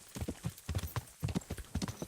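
Rapid, close clip-clop of a horse's hooves in a video game, a steady galloping rhythm of sharp knocks repeating throughout with no other sounds.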